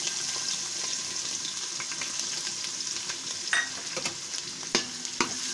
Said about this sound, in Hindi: लहसुन को ही थोड़ी देर भून लेंगे